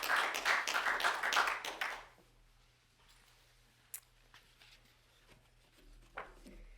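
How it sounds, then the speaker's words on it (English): An audience applauds at a police department promotion ceremony in Charlottesville, a dense burst of clapping for about two seconds that stops abruptly, followed by faint scattered room sounds. "Well, I'm clapping."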